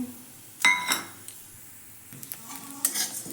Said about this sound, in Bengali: গরম কড়াইয়ে ভেজে নিচ্ছি